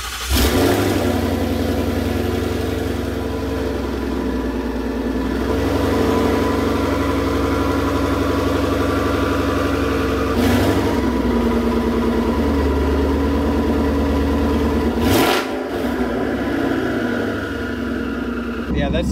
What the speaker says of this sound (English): World's first startup of the Corsa Double H on a twin turbo car.